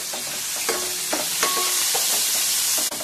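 Two spoons of ginger garlic paste fry in a pan with green chilies and onion, giving a loud, continuous close sizzle broken by a few spoon strokes.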